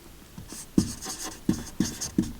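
A pen draws line strokes on a board during a math lesson, making five or six short, sharp scratching taps in an uneven rhythm, close and distinct with no voice.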